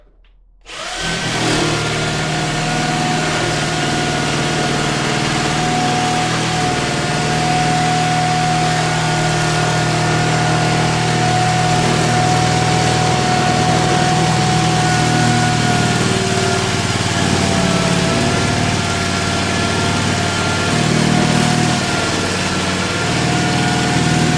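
Jigsaw with a worn blade cutting bathroom flooring alongside a floor joist, starting abruptly and then running as one loud, steady, high buzzing whine for over twenty seconds, close and alone.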